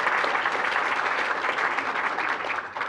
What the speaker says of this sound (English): let's have a nice round of applause for the Two College Through College team